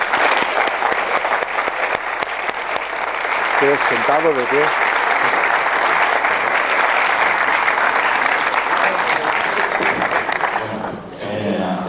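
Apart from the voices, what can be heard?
double round of applause from conference audience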